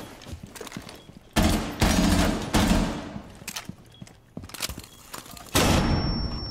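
Rapid bursts of gunfire in the tactical shooter Rainbow Six Siege, several loud, close volleys separated by short pauses and quieter stretches of game noise.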